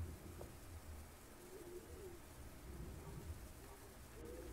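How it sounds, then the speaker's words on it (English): A bird coos softly in the PC horror game September 1999, faint and low against a quiet, dark ambient background with no talk. "I hear a bird."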